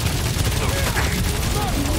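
Rapid gunfire in the video game Guardians of the Galaxy, a dense, continuous rattle of shots running the whole time under music and effects, with no clear gaps between bursts.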